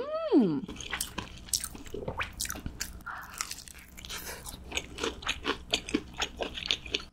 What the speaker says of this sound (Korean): 김말이를 찍어 먹어봐야겠어요